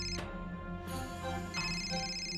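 Phone ringtone plays unanswered in a home scene of a Marathi TV serial, a faint melodic ring with repeating tones lasting a couple of seconds under soft background music.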